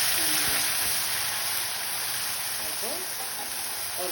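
Nigella seeds sizzle in oil already used for frying fish, a steady close crackling hiss that runs throughout.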